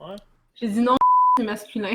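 A single steady censor bleep tone cuts in between bursts of conversational speech, lasting about half a second.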